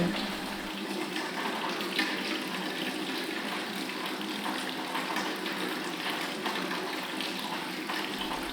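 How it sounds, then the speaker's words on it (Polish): Water runs steadily from a tap onto a woman's head, a continuous splashing hiss at even volume with no voices. "Kobieta staje pod kranem. Po jej głowie spływają strugi wody."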